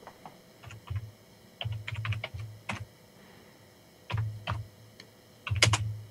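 Someone types on a computer keyboard in short clustered bursts of clicking keystrokes, moderately close, with pauses between the flurries and no talking.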